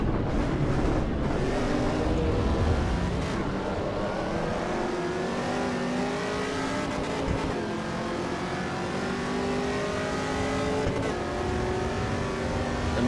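A race car engine in Assetto Corsa EVO revs hard and accelerates, its rising whining tone climbing and shifting through gears over thirteen seconds, loud and continuous with no talk over it.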